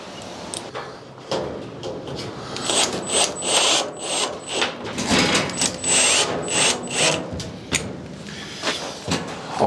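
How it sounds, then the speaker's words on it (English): Screws are driven in with a power drill while a whole-house water filtration and pump system is installed, with close whirring bursts, clicks and knocks of the tool against the housing. "So let's put the other two screws in."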